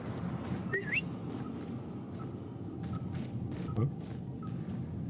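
A character whistles inside The Surge 2 video game, a short rising melodic whistle near the start followed by a few faint tones over steady low game ambience.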